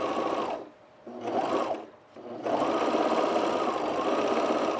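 A sewing machine stitches the hem on the upper back of a sunblock top made from fabric that frays easily, running in three steady bursts separated by two short pauses, close and fairly loud with no talk.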